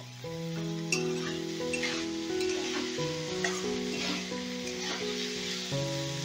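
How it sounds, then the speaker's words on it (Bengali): Flat beans and chillies for a bean bharta sizzle and fry in a pan over a raised gas flame, a steady close sizzle with occasional stirring clinks and scrapes throughout. "লাল লাল করে এবারে ভেজে নিতে হবে।"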